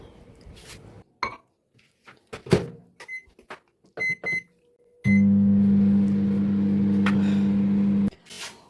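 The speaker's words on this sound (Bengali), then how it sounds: "একটু মাইক্রোওভেনে গরম করে নেবো" A microwave oven heating green tea: a few clicks and beeps as the door and buttons are worked, then a loud steady hum as it runs for about three seconds before stopping.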